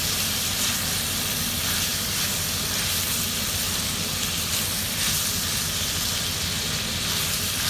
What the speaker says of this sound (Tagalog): Sobrang bango po talaga para sa akin yung beef, lalo na kapag ginigisa ito.